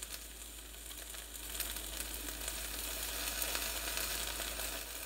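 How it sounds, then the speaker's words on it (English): Cheese sizzles steadily while cooking, a constant close crackling hiss that swells slightly partway through, with no talking. "Cheese is sizzling in there."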